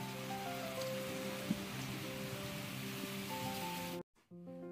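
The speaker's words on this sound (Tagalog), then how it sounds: "nag-umpisa na naman yung lakas ng ulan" Heavy typhoon rain pours outside a rural hut, a dense steady roar with droplets hitting surfaces. It cuts out briefly near the end and then resumes.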